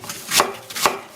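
A knife cuts through a washed apple, skin on, on a cutting board while kimchi seasoning is prepared, giving two crisp, close chops about half a second apart.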